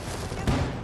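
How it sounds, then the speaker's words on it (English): A single grenade explosion in a Battlefield video game, a short muffled low boom standing out briefly against continuous battlefield noise. "That shit blew up as soon as I was throwing that bitch."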